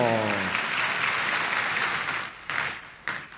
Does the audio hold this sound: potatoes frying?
no